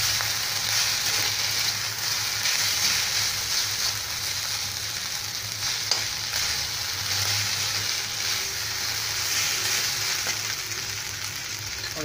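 Schezwan sauce being stirred into fried rice in a hot wok, a constant loud sizzle and hiss with faint scraping of the spatula, close and steady for the whole stretch.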